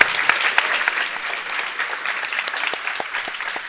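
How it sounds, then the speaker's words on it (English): Applause from an audience at an ARGCS tournament match in Cleveland, a steady patter of many hands clapping at moderate loudness as a player walks off, with no voices standing out. "let's give a round of applause as Corey walks"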